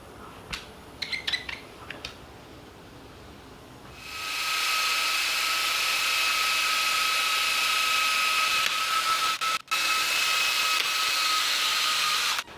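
A few light clicks come first, then a polisher with a felt pad spins up on a glass windshield into a steady, close, whirring hiss that dips for a moment near the end.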